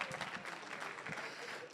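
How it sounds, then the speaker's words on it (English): An audience at a millionaires summit networking event claps in a brief, dense burst of applause from a crowd in a room, with a voice heard over it. "Give him a round of applause."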